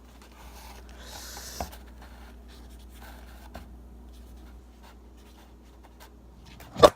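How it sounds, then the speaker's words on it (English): A pen or marker writes a name on a plate, giving a faint, close scratching and rubbing over a quiet background. A sharp knock comes near the end. "Put a plate. I'm gonna write Marvin."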